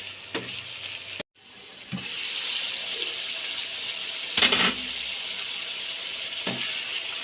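Finely chopped tomatoes sizzle steadily in frying masala, a continuous close hiss with a brief dropout early on and a few scraping stirs cutting through.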